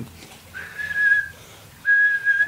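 Two steady, flat whistled tones, each held about half a second to a second with a pause between, a human whistle imitating a bat call.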